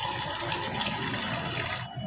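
Cold water poured over boiled potatoes in a pan, a steady splashing rush that holds for about two seconds and then cuts off.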